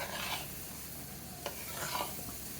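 Onions frying in a tempering of green chillies, curry leaves and whole spices for vermicelli upma: a continuous soft sizzle with light stirring scrapes and an occasional sharp tap, close by.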